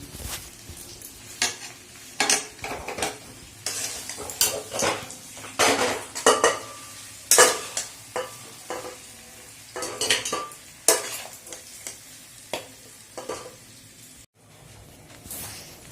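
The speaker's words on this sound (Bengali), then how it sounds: "এবার আমি মাংসটাকে কুকারে ট্রান্সফার করব" Cooked duck curry meat being moved from a pan into a pressure cooker, with repeated clanks of a spoon against metal pots and light sizzling between the knocks, close and irregular, no talking.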